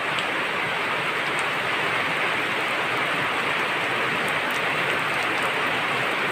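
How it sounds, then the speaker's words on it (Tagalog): Light rain falls steadily on an outdoor surface, a soft continuous hiss with occasional faint droplet ticks, no voices. "Kaso mahina lang ang ulan guys."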